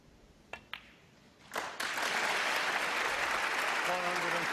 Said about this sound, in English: Stand by for the applause.